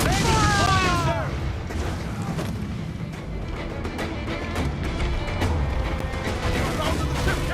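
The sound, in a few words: ship cannon fire in Assassin's Creed IV: Black Flag video game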